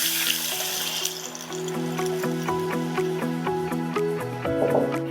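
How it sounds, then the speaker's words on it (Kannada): Water is poured slowly into a hot pan of frying asafoetida, hissing and sizzling over a steady sustained hum, with no speech. "ಈ ಹಿಂಗುಗೆ ಒಂದು ಲೋಟ ಅಷ್ಟು ನೀರನ್ನು ನಿಧಾನವಾಗಿ ಹಾಕಬೇಕು"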